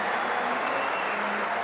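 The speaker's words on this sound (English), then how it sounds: "And a good cheer too from a good crowd here" Cricket crowd at a New Zealand versus Australia Chappell–Hadlee one-day match in 2007 applauding after a maiden over, a steady even wash of distant clapping and cheering.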